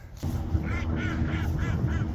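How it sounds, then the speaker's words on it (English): A group of ducks near a garden pond gives a run of five or six rhythmic, raspy quacks, close and fairly loud over a low background rumble. "Got all the ducks in the pond now."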